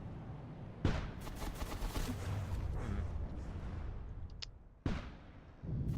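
A particle cannon in the From The Depths video game fires twice, each shot a sharp loud blast, the first followed by a long crackling, rumbling tail before the second burst hits near the end.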